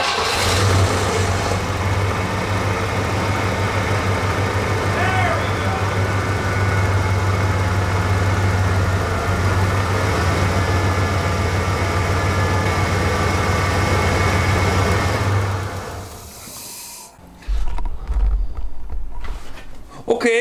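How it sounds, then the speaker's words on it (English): A 4WD vehicle with a Borg Warner 1356 transfer case and its idle air control valve unplugged, engine held running by throttle: steady droning idle with a low hum for about fifteen seconds, then dropping off to uneven low rumbles and thumps. "I manually kept it going, the engine going, just by stepping on the gas pedal"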